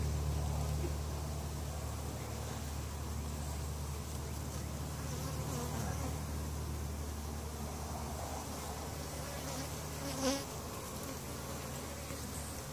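A steady, dense drone of many honeybees buzzing together at a crowded hive, faint and continuous, with one insect passing briefly closer partway through.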